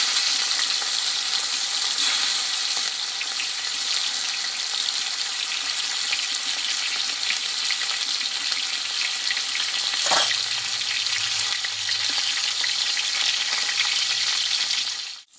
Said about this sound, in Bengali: দিয়ে মাছগুলোকে আমি ভেজে নেব